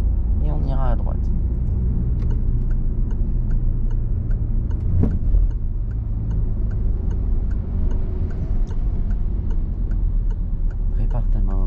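A learner's car engine hums low and steady during a slow-speed manoeuvre at a driving lesson, with a regular faint ticking running through it and voices talking over the top.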